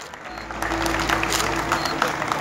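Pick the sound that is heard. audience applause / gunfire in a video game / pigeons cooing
audience applause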